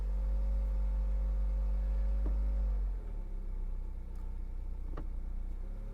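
A car engine idling just after starting, loud and steady low rumble that drops to a lower, quieter idle about halfway through, with a couple of small clicks.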